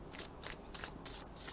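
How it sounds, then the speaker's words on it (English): Brisk riffle shuffles of a tarot deck with smooth, non-glossy gilded cards, four or five quick fluttering bursts in a steady rhythm, close and fairly quiet with no talking. "I'm going to riffle shuffle to show you guys how it feels or how it sounds"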